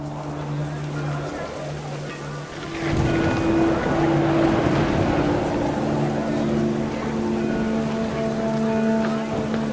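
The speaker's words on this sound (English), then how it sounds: "The rain came down in buckets then" Heavy video game rain in What Remains of Edith Finch pouring steadily, intensifying partway through into a dense roar, with a low tonal hum underneath.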